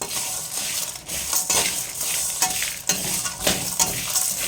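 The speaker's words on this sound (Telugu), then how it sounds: "కొంచెం సిమ్లో పెట్టుకొని నిదానంగా వేయించుకోవాలండి" Red chillies, coconut and curry leaves dry-roast in a pan over low heat, giving a steady close scraping stir with light crackling sizzle and occasional spoon taps on the metal, with no talking.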